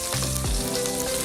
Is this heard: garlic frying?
yes